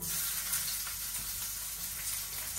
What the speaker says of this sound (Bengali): এখানে তেল দিয়ে দিছি, আর এই যে পেঁয়াজ কুচি দিয়ে দিলাম